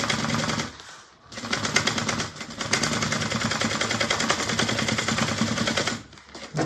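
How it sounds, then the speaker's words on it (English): A sewing machine stitches the side of a fabric bag in a rapid continuous mechanical rattle, pausing briefly twice before running on loudly and close. "And we're going to sew that side up"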